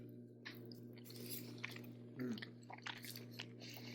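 Quiet chewing and crunching of Thanksgiving stuffing from a meal kit, close-up mouth sounds with a few bites and squishes over a low steady hum, no talking.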